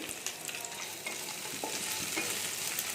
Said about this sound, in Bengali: পেঁয়াজটাকে একটু হালকা লাল লাল করে ভেজে নেব।